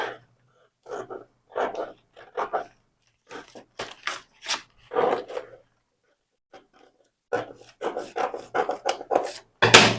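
Scissors cutting through fabric while cutting out a dress pattern, giving a series of close, rasping snips in short bursts with pauses between them.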